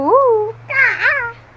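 A young child imitates a cuckoo's call with two sung, hooting vocal sweeps that rise and fall, close by, with a short pause between them.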